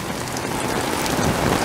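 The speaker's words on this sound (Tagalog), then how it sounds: "biglang humina yung ulan" Heavy rain pours down steadily, a dense, loud hiss of drops drumming on surfaces with no voices.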